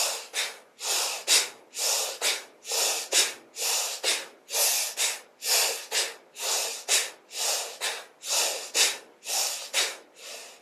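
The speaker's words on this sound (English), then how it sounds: "You could also do more of a bellows breath, where we're effortfully breathing in and breathing out." Bellows breath in a yoga practice: about a dozen forceful, rhythmic breaths in and out, each a loud airy rush at a steady pace, close and without talk.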